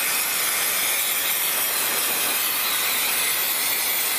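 An aerosol spray can hisses steadily on a 2012 Yamaha YZ 250 motorcycle engine, one continuous loud spray lasting several seconds with no talk over it.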